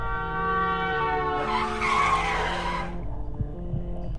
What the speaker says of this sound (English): I braked sharply and froze.